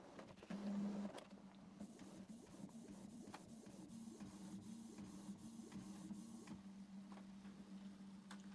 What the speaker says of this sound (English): Now it's purging again the nozzle.